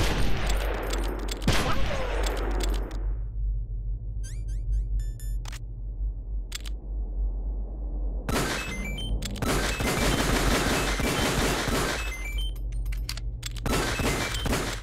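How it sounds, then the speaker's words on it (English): Video game gunfire hitting Mario in a GameCube game, the hits setting off the 1-up jingle: loud bursts of rapid shots and crashes, with brief bright chiming tones in the gaps and short pauses between volleys. "shooting Mario plays the 1-up sound and replenishes your health"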